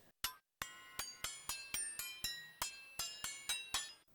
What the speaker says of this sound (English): Every key has a different metal sound